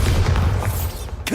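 In the Hogwarts Legacy video game, a Bombardo blasting spell explodes as a loud, close, deep boom that fills the whole short moment, ending in a sharp crackle.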